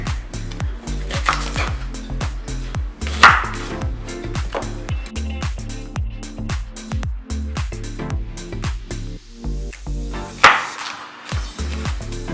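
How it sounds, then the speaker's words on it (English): A small onion chopped on a cutting board, with rapid, regular knife strikes close by, each a crisp tap against the board, keeping up a fast steady rhythm with occasional louder hits and no talking. "first thing we're gonna do is chop up a small onion"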